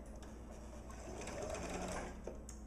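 A home sewing machine stitching a few stitches in reverse through fabric, a close, steady mechanical whir that holds evenly for a couple of seconds, heard alone.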